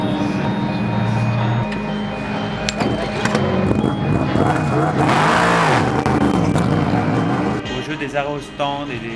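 Ligier and Norma prototype race cars at Valencia roar past with loud revving engines and a rising then falling pass-by, while a commentator talks over the action throughout.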